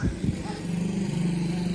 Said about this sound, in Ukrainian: Мотоцикл їде.